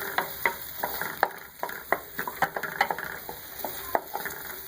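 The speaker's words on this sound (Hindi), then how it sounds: "सबसे पहले ऑयल में हम एक प्याज ऐड करेंगे। ये आपने बहुत ज़्यादा बारीक से चॉप नहीं करना, क्यूब्स में कट कर ले। इसको फ्राई करें।" Cubed onion fries in hot oil with a bright crackling sizzle, punctuated by rapid, irregular scraping and clicking strokes of a spatula stirring close against the pan.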